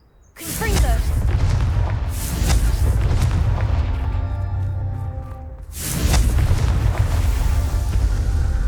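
A Confringo fire-blast spell detonates in Hogwarts Legacy, a loud booming burst with a rumbling tail that swells again a few seconds later, dense and close with no voices.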